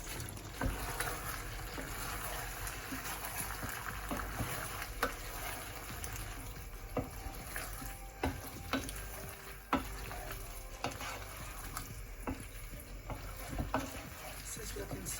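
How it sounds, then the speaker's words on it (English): Cauliflower sizzles and is stirred in a pan of sweet and sour sauce, a continuous quiet frying crackle with scattered clicks and scrapes of the utensil. "now we're going to go ahead and add the cauliflower."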